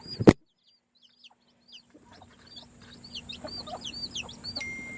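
Young chicks peep in quick, high, scattered bursts beside a hen or chickens, after one loud knock near the start, over a low steady hum that grows slightly busier toward the end.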